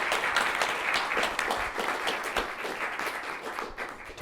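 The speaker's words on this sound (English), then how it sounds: "please join me in a round of applause for the panelists" An audience applauds panelists at a regenerative agriculture discussion, dense sustained clapping from a crowd, steady and fairly loud over the whole stretch.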